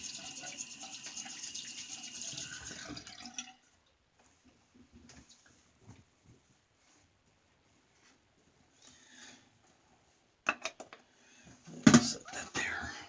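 Water runs from a tap to rinse out a shaving tub, a steady splashing for about three seconds. Near-silence follows, broken by faint handling knocks and then louder clatter and bumps toward the end.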